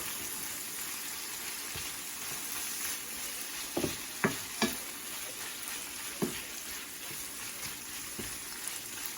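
Salmon sisig sizzles steadily in a hot pan after vinegar is added, with several sharp scraping clicks of a utensil stirring through it, close and unaccompanied by talk.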